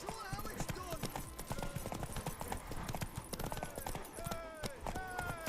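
Horse hooves clip-clop rapidly and continuously through a Witcher 3 race, steady galloping under shouted voices, with occasional whinnies and a busy game soundscape.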